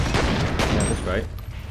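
Dual guns firing in the shooter game F.E.A.R., a dense burst of overlapping gunfire running steadily through the moment with a brief shell-like ring partway, loud and close.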